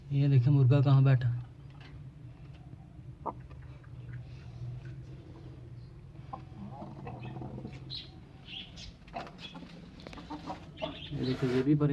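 Chickens and a rooster cluck in a backyard coop, with a loud burst of clucking at the start. Softer scattered clucks and rustling follow, and a second clucking burst comes at the end.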